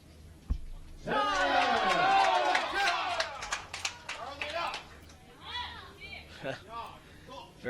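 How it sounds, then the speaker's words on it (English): Loud crowd cheering and shouting for the Chinese team at a recurve archery team final of a World Cup stage in Antalya, a dense swell of voices that fades into scattered calls and claps. "lots of support in the crowd for the Chinese team"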